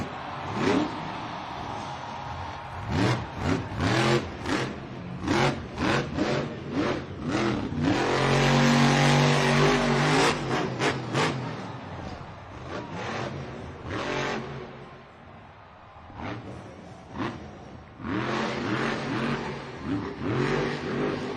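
A monster truck engine roars and revs loudly on a stadium dirt track during a Monster Jam event, surging and dropping in long rising and falling runs with dense crowd and arena noise around it.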